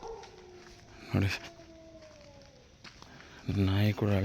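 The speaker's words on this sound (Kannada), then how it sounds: "ನಾಯಿ ಕೂಡ ಅಳ್ತಾ ಇದೆ." A dog howls near a cemetery in a forest, drawn-out wavering cries rising and falling at middle distance, broken by two louder, harsher bursts of voice or barking.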